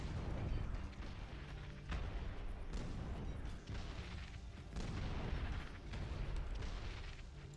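Repeated booming artillery shelling from howitzers in a video game, heavy low rumbles recurring every second or so over a continuous loud battle din, with no talking.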